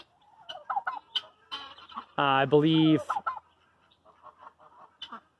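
Laying hens, including barred rocks, cluck and squawk close by, with one loud drawn-out honking call in the middle and a person murmuring a few words.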